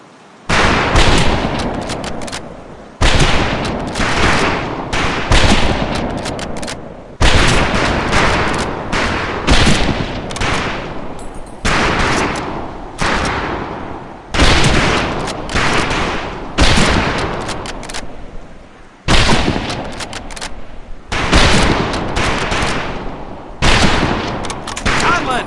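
Rifle fire at a shooting range in the video game Medal of Honor Pacific Assault: loud, dense bursts of gunshots in repeated volleys of a few seconds each, separated by brief pauses.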